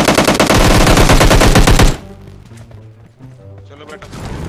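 Rapid automatic gunfire in the mobile battle-royale game PUBG Lite. A loud, fast burst lasts about two seconds, then gives way to quieter game sounds and a voice talking.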